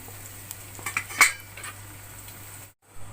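Long-sliced onions go into heated oil in a pan, with a few clinks of a utensil against the pan and a soft hiss of frying, before a brief cutoff near the end.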